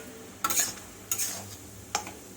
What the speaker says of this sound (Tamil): இப்போ கிளறி விடுவோம்.